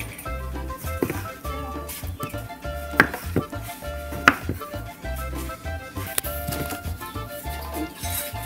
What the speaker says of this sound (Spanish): Seguimos con el picado de la verdura, amigos.